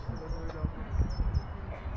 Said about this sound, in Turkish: Bak çalı kuşun sesine bakın arkadaşlar.